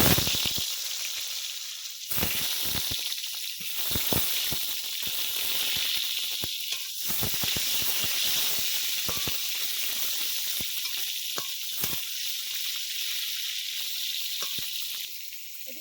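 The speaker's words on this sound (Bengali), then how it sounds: "পটলগুলো ভাজা হচ্ছে" Steady, loud sizzling of pointed gourd pieces frying in hot white oil in a wok, with occasional clicks and scrapes of a utensil in the pan.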